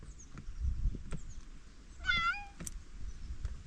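A single clear cat meow sounds mid-clip over faint background rustling and small clicks, on a park walk at Franklin Ridge near Martinez.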